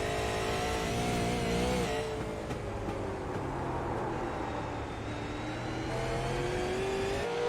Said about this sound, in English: You can hear those tires just run into the ground